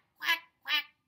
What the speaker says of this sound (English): Mother duck said quack